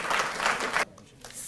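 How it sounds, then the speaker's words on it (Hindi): Applause at a Delhi ceremony honoring athletes, a burst of clapping for under a second that drops off abruptly into near quiet, faint and somewhat distant. "तालियां बजती रहें।"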